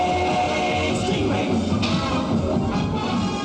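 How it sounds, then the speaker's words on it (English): A 1960s Stingray television sound effect for the injector tubes plays as a dense, rumbling whoosh with swelling tones, steady and loud for a few seconds. "So this is the sound of the injector tubes."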